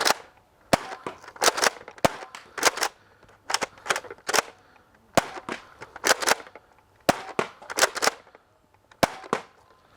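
A Nerf Rival Curve Shot Helix blaster fires repeatedly at a target, sharp mechanical snaps and rattling bursts arriving in quick irregular clusters with short pauses between, close and crisp.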